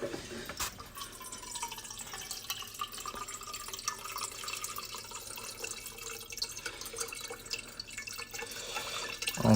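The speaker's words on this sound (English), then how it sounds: "Let's fill up my water bottle." Water runs steadily from a water filter into a bottle, a continuous close trickle and splash whose tone shifts slightly as it fills, with no one talking.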